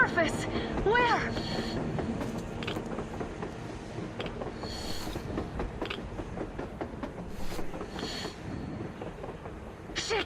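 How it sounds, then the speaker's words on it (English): A train rumbles along on the surface in Metro Exodus, a steady mechanical roar with rattling that runs continuously under several people talking. "A train! A damn train on the surface!"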